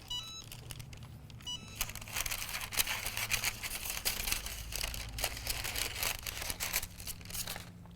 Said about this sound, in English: we're just going to cut off a little piece right here with our scissors.